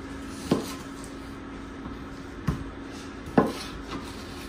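A knife chops smoked kielbasa into roughly two-inch chunks on a cutting board, three distinct, evenly spaced thuds against a faint steady hum, close and moderately loud.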